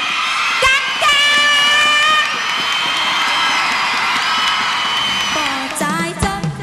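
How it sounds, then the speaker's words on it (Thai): A loud crowd at a televised Thai singing-contest event cheers, screams and whoops continuously, with shrill high-pitched shrieks rising over steady background music. "ขอเสียงกรี๊ดดังๆ"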